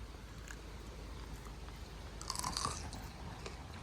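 A child bites into a fresh plum outdoors in a village and chews, a soft wet crunch rising briefly midway over a steady faint background hiss.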